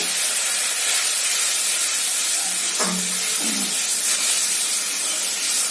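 Water poured into spice masala frying in a pan for a potol dish, giving a steady, loud hiss and sizzle throughout, with a brief burst of bubbling near the middle.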